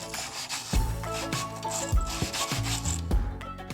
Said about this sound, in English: Then give the shaft a scrub out.